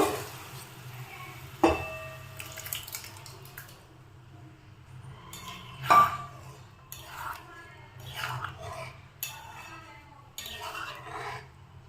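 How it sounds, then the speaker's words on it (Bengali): Boiled peas tipped into a pan of fried spices for ghugni made with vinegar, giving soft wet squelches and a couple of sharp clinks of a utensil against the pan, close by and fairly quiet. "এখন আমি সিদ্ধ করা মটরটা দিয়ে দেব।"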